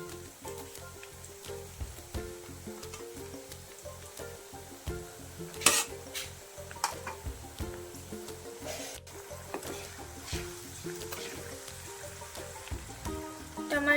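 Tomatoes being stirred with a spoon in a frying pan for podi upma, a steady sizzle under repeated scraping and stirring strokes, close and continuous with no talk.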